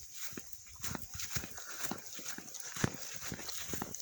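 Hooves thud and clop irregularly on the ground nearby as grazing horses and mares move about slowly in a pasture, with soft rustling in between and no talking.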